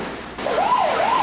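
An ambulance siren wails in a steady rising and falling sweep, loud and continuous over a noisy road background.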